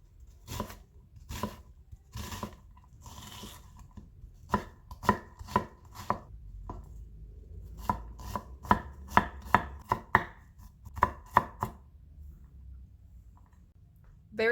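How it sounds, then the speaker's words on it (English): A knife dicing a peeled onion on a cutting board, with quick, sharp, rhythmic chops in bursts and short pauses, close and fairly quiet. "I just peel the onion and the same idea as the shallot, horizontal cuts, vertical cuts"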